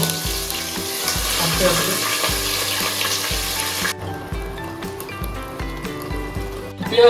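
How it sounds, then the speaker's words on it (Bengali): Onion paste sizzling in hot oil in a kadai with bay leaves, a loud close hiss with rhythmic stirring scrapes; a voice speaks briefly over it and the sizzle drops partway through. "তেলটা এখন গরম হয়ে গেছে, তো আমি এখন পেঁয়াজ পেস্টটা অ্যাড করবো"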